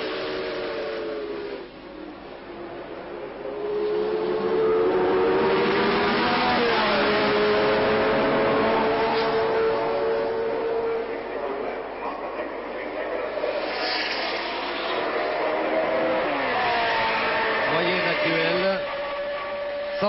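1963 Monaco Grand Prix race cars roaring past on the street circuit, engines rising and falling in pitch as they approach and pass, loud and sustained, with a commentator talking over the racing.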